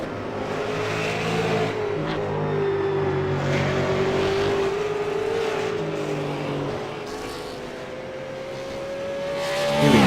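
A V8 Supercar on a flying lap at Summit Point holds a loud, close, sustained engine drone whose pitch climbs slowly, then swells at the end.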